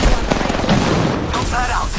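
Gunfire in a first-person shooter video game, a dense loud burst of shots and booms filling the short stretch, with game sound effects layered over it.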